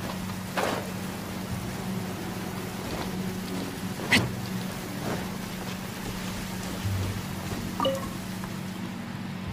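Steady rain falls in the video game Genshin Impact, a dense continuous patter with a low rumble and a few sharper splashes or thunder-like cracks, heard alone with no voices.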